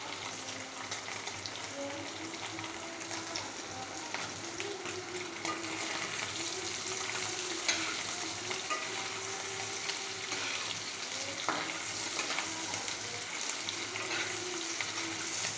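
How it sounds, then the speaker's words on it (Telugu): Paneer pieces frying in a pan, with a dense, continuous close sizzle and crackle throughout and occasional soft stirring. "ఇలా పీసెస్ అన్నిటిని కూడా ఫ్రై చేసుకోవాలండి."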